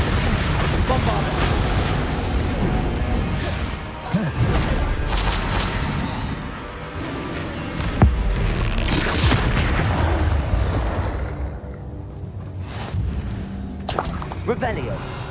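Bombarda blasting spell explosions in Hogwarts Legacy, several loud booming bursts over a dense, continuous game soundscape of music and effects, with shouted voices calling spells.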